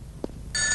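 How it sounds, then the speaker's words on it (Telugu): A telephone bursts into loud, steady ringing partway through, after a brief soft thump, in an indoor scene from a Telugu comedy film with Rajendra Prasad and Kaikala Satyanarayana. "ఆ ఫోన్ నాది. వచ్చే ఫోన్ నాకు వస్తుంది"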